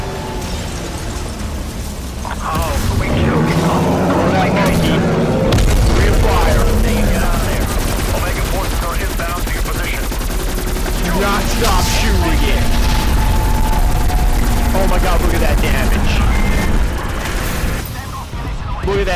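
Sustained video game gunfire and explosions during a boss fight in Cold War Zombies, loud and continuous for most of the clip, with voices talking over the shooting.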